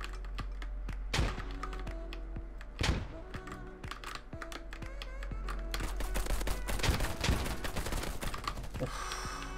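VSS rifle fired from the hip in the shooter game Polygon, a few sharp suppressed shots and quick bursts amid clattering keyboard clicks and game noise, moderately loud and close.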